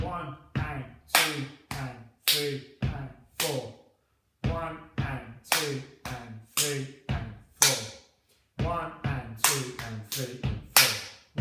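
Rhythmic body percussion of sharp hand claps and foot stomps repeats in even four-beat patterns, while a voice counts the beats aloud over each round.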